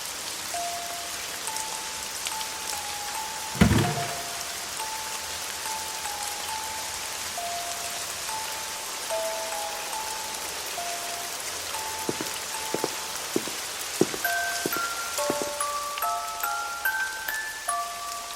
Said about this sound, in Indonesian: Alhamdulillah hujan.